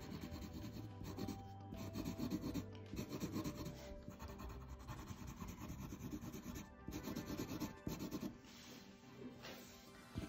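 Steady pencil shading and rubbing on paper while drawing a portrait, a continuous close rasping scratch with brief pauses between strokes.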